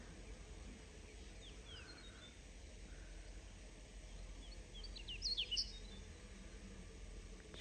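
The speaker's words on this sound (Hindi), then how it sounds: "यहाँ पे भाई ये छोटी सी चिड़िया बैठी है, बहुत प्यारी आवाज़ है इसकी।" A small bird chirps in short, faint bursts over steady outdoor background noise near a house on a cloudy morning, with a louder cluster of bright chirps toward the end.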